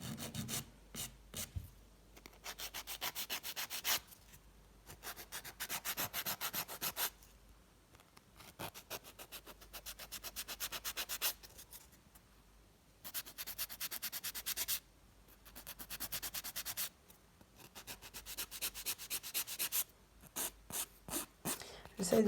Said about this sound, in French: Là, je vais limer.